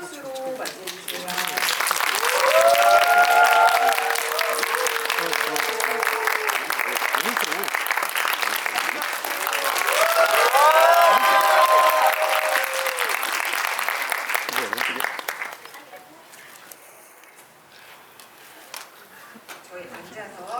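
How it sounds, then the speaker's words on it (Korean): An audience at a film talk event for the movie Soulmate applauds to welcome the director and actors, loud sustained clapping with cheers and voices mixed in, fading to quiet murmurs near the end. "큰 박수로 맞이해주세요."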